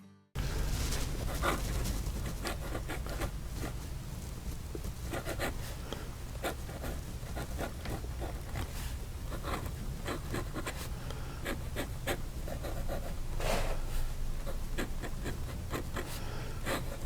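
Scratchy scraping of a custom green resin fountain pen nib moving across paper, a steady faint scratching with irregular short strokes throughout, close and quiet, no talking.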